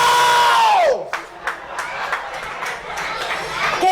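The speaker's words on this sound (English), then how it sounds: "the crowd cheers their favorite contestant on to victory" Crowd at a mosquito calling contest, a sustained whining call that glides down and stops, followed by a burst of cheering, shouts and chatter from many people, fairly loud and close.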